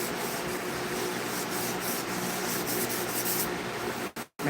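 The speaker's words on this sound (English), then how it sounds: "I always like to hit every board with the final hand sander." A hand sander works steadily across a wooden board in a close, continuous scratchy rubbing that breaks off briefly near the end.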